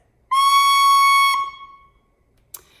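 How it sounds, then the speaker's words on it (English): A single shrill, squeaky recorder tone about a second long, caused by air leaking past a finger, bright and piercing, followed by a faint click. "air escapes and causes a squeak"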